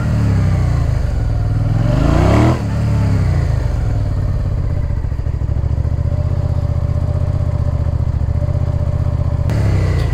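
Motorcycle engine revving and droning steadily close by during moto gymkhana riding on tyres run below 2.0 bar, with a brief louder rev surge early on and a continuous loud engine tone throughout.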